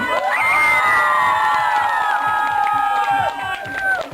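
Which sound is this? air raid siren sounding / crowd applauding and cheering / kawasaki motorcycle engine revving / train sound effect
crowd applauding and cheering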